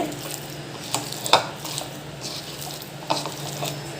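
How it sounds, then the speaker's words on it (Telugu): Prawn pakodi batter of gram flour and rice flour is mixed by hand in a bowl, giving soft wet squishing and stirring with a few light clinks of the bowl. It is close and fairly quiet, with no speech. "మళ్ళీ ఒకసారి కలుపుకోవాలండి"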